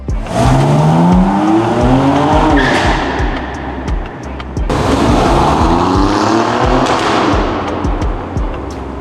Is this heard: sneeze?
no